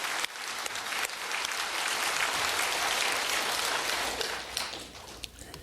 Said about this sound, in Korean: 모두에게 축복의 박수 한번 하겠습니다